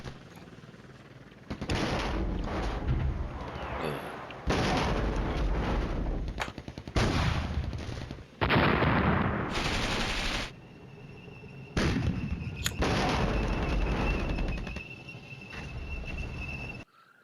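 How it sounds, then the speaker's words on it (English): Gunfire from the military strategy game Flashpoint Campaigns: Red Storm, with loud bursts of shots and blasts in repeated clusters separated by brief pauses, no voices present. "Shooting these guys on this side."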